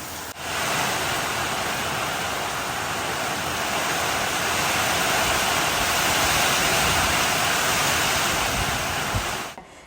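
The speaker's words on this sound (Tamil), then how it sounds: "இன்றைக்கு ஃபுல்லாக இந்த மழை என்ன செய்யுதுன்றதை பார்ப்போம்ன்றதுக்காக வெயிட் பண்ணி கொண்டிருக்கேன் அது குறையிற மாதிரியே இல்லை" Heavy rain pours down in a steady, dense hiss that stays unbroken and loud for the whole stretch, with no voices.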